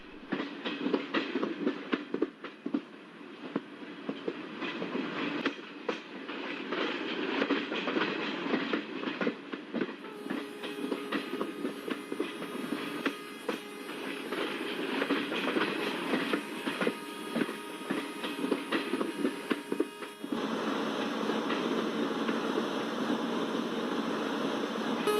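The 16335 Nagarcoil Express locomotive runs at speed, heard from inside the cab: a steady, loud mechanical drone with rhythmic wheel clicks and hissing, continuous and without talk.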